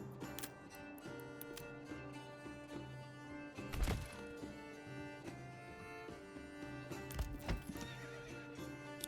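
Horse neighing in the medieval city-builder game Manor Lords, with clip-clop hooves and a steady background music bed; two louder whinny bursts stand out amid ongoing ambient game sound, no talk.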